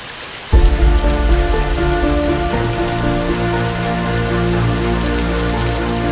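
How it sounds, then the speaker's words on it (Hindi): Heavy rain pours down during the Kawad Yatra in Haridwar under low overhead clouds. It arrives suddenly after half a second and becomes a loud, steady, dense roar with no talking. "और गाइस सच में ये बारिश इतनी तेज हुई कि मैंने इतना एक्सपेक्ट भी नहीं किया था।"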